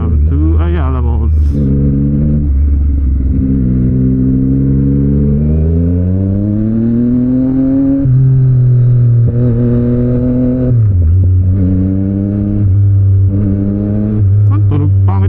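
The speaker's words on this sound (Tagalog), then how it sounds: "Ang tunog, pangit ang tunog ng motor ko." A motorcycle engine with a rough, unhealthy note runs steadily and loudly up close, its pitch rising and falling as it revs, with a voice talking over it throughout.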